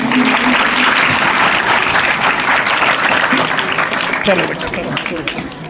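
Loud, continuous applause fills a school gathering on Children's Day as a teacher is welcomed, with many hands clapping together and voices audible through the clapping before it thins out toward the end.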